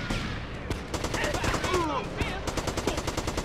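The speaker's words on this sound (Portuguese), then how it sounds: "Me explica por que você tá me atirando" Rapid gunfire from the video game GTA Vice City Stories: dense bursts of automatic shots with a steady run of sharp, closely spaced cracks throughout, loud and continuous over a busy game soundscape.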